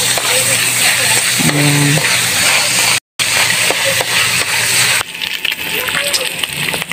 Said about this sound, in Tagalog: So dyan na natin igigisa yung sibuyas bawang. Papa-brown muna natin ng konti.